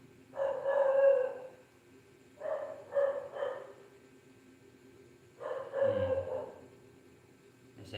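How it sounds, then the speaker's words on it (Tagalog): A dog barks in three separate bursts, the first and second with quick doubled barks and the last ending in a low growl, all fairly close, with a quiet background between them. "nagtawa naman yung aso"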